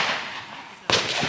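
Gunfire from a rifle at steel targets, probably an AR-15 with A1/A2 iron sights, outdoors: one sharp, loud report lands near the end, after a stretch of wind-like background noise, and the sound stays loud afterward.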